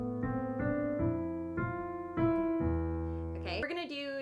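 A short, easy piano phrase from a song from Encanto, a few sustained notes played near and clear, followed by a voice starting to speak at the end.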